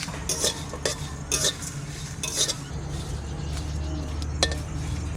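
Whole spices (bay leaf, fennel, garam masala, cardamom, cumin and coriander) dry-roast over low heat in a pan, stirred with a utensil that scrapes and clinks against the metal in irregular bursts, faint and close.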